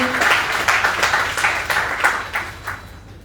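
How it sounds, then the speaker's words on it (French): Applause from a seated audience at a formal Rotaract and Interact inauguration evening in Mali, dense steady clapping that swells briefly and then tapers off over a few seconds. "On applaudit encore une fois pour le DRD"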